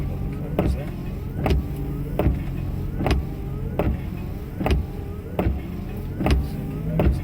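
A Lamborghini idles and creeps slowly through a course of cones, a low engine hum broken by regular sharp clicks or thumps about once a second.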